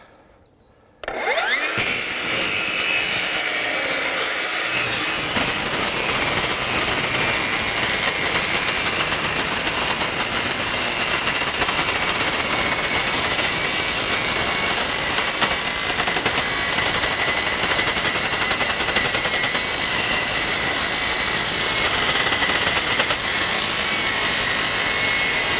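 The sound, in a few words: Milwaukee M18 FUEL circular saw cutting metal and wood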